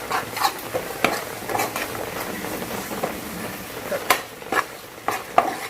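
A spoon scrapes and stirs masala with coconut milk in a pan for Kerala fish pollichathu. Soft strokes repeat against a low simmering background, with a few sharper scrapes near the end.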